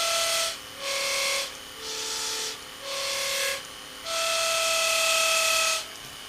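A homemade siren disc with an airstream blown through its rows of holes gives five steady whistling tones in separate bursts with short gaps. The pitch steps between bursts, and the last tone is the longest and highest.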